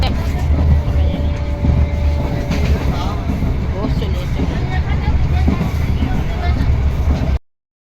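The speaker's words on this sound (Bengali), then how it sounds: "দেখতে পাচ্ছ ট্রেনে উঠে পড়েছি" Inside a crowded passenger train while it runs, a loud continuous rumble and rattle of the carriage, with people's voices talking over the noise until it cuts off abruptly.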